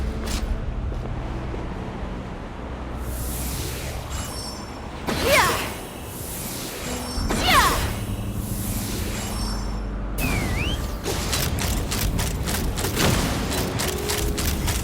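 Gunfire in Genshin Impact, Of Fading Flowers And Falling Feathers Act III: bursts of rapid shots and booming impacts with whooshing passes, heavy and close, over a constant mechanical rumble.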